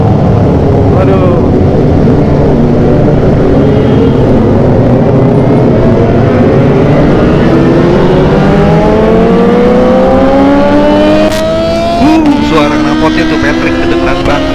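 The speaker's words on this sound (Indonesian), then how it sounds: "Jakarta nih dipenuhi motor 4 silinder bergemuruh udah seperti suara tawon" A pack of Kawasaki ZX25RR four-cylinder motorcycles roars through Jakarta streets, loud high-pitched engines revving and rising in pitch as bikes pass close by, continuous and overlapping, with some voices underneath.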